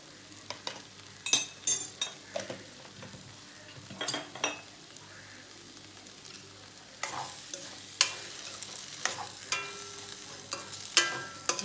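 Okra curry with onion and tomato cooks in a pan. A faint steady sizzle runs under scattered light scrapes and taps of a spoon stirring, with no one speaking.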